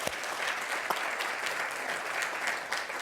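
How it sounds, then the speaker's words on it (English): Applause from an audience at a live business interview event: a steady, dense wash of clapping that holds at an even level for the full few seconds, with no voices over it. "Let's get a round of applause,"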